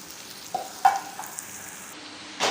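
Pepper, cumin and asafoetida tempering in a pan, a faint soft sizzle with a few light metallic taps and scrapes of stirring, close but quiet, ending in a brief louder burst.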